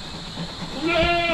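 A single drawn-out goat bleat rises with a wavering tone over steady background noise on a Philippine goat farm.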